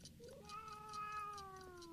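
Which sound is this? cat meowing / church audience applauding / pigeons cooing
cat meowing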